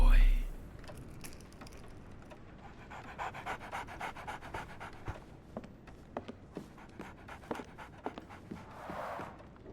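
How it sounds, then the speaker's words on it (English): Dog panting in the video game Sherlock Holmes The Awakened, a steady rhythmic breathing over soft game ambience with intermittent footstep-like taps. "So, Barnes has a dog now."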